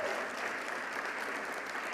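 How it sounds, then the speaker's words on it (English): An audience at a scholarship awards ceremony gives a big, continuous round of applause, a dense and even roar of clapping that holds steady throughout. "how about a big round of applause"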